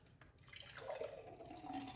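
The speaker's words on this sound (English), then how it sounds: "Let's pour this juice into" Pineapple, cucumber, ginger and lemon juice pours into a large container, a faint, soft liquid trickle and splash, quiet and close, with light dripping.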